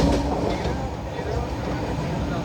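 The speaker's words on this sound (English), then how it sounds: "We accelerated through Chiplun station at 7:24 pm." A Duronto Express sleeper coach accelerating through Chiplun station at night, a steady low rumble and rolling rail noise heard from inside the carriage, continuous and moderately loud.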